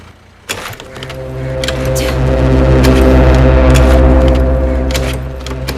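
A motorbike engine starting in a film scene: a short click, then a loud, steady engine drone that kicks in and swells, holding for several seconds close by.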